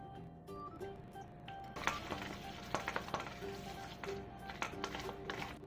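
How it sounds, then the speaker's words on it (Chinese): Seasoned pork dumpling filling with minced ginger being stirred in a bowl, soft wet squelching and scraping strokes in an irregular rhythm, close and faint. "继续搅拌。"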